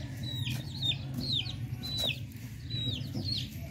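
Chickens, a rooster and a hen, cluck in short rising calls several times over a low rumbling background, close and moderately loud, with no one speaking.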